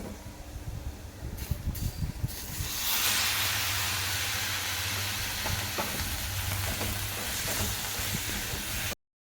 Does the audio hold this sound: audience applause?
no